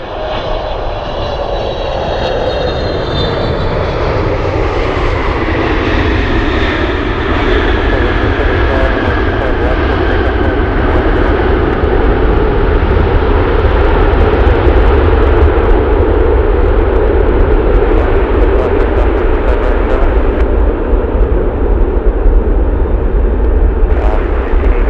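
A heavy Boeing 777 landing on runway 15 at Anchorage in gusty wind, its engines roaring loud and close with a long, sustained rumble and a whine that shifts in pitch as the jet passes.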